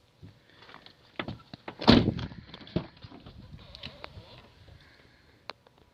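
A 2003 PT Cruiser car door is pushed shut, one dull thump near the middle surrounded by quieter clicks and knocks of the latch and handle in a quiet setting.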